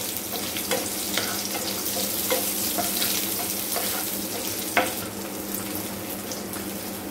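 Onions sautéing in a pan for chutney give a soft, steady sizzle with occasional sharper crackles and scraping stirs, close and moderately quiet, with no talking.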